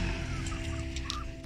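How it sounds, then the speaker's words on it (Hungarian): Hens in a farmyard cluck and call over a constant low hum, the bird sounds close and intermittent, with no speech. "Dobjunk egy kicsi zöldet a tyúkoknak, és a Rityiknek"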